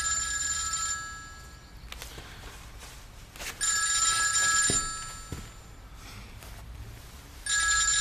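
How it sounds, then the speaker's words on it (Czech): A telephone rings in repeated bursts of electronic trilling, loud and near, with quiet pauses between the rings and no talking. "Ty ještě nezvedneš ten telefon"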